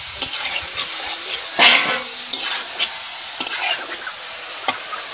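Chicken meat hits a hot pan of reddish fried spice base and is stirred, giving bursts of sizzle with intermittent scraping strokes, close and moderately loud, no talking.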